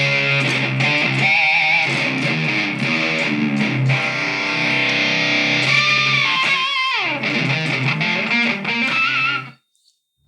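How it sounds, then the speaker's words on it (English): An electric guitar runs through a Djenttinic distortion pedal into a Solid Studio and straight into a mixer. Sustained heavily distorted chords and bent notes ring out loud and close for about nine seconds, then cut to silence. "just got my Djenttinic little distortion pedal there plugged into my Solid Studio, straight into the mixer"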